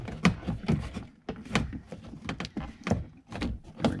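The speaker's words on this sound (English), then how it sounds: "So we're going to take the door panel down." Close, repeated plastic clicks and dull thunks as a door panel is pried loose and pulled down on a Jeep JL Wrangler, the knocks coming in an uneven rhythm.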